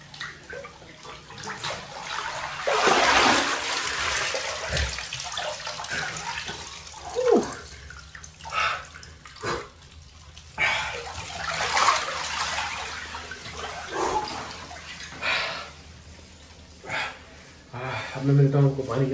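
Water sloshes and splashes as a head is dunked into an outdoor ice bath in freezing weather, bursts of churning water rising and falling between quieter stretches while someone talks.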